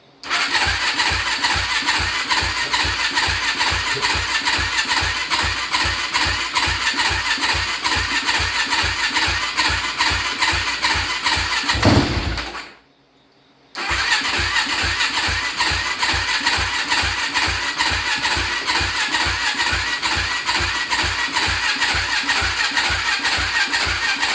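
Yamaha Blaster ATV fitted with a 450 engine, low on fuel, cranking and then running in a fast, rapid, steady thumping idle, loud and close. It cuts out for about a second near the middle and picks up again, with no talk.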